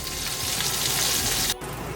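Vegan fish fillets pan frying in oil give a loud, dense sizzle that runs steadily and then drops sharply near the end, with no talking.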